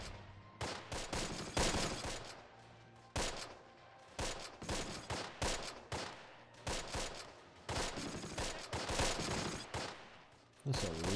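Gunfire in the Close Combat wartime strategy game, a street fight at Nijmegen: repeated sharp bursts and rattling volleys of rifle and machine-gun fire, fairly close and irregular, over a low steady background.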